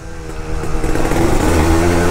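Yamaha DT200R two-stroke motorcycle riding at night, engine droning close and loud, then building in revs and intensity as it accelerates.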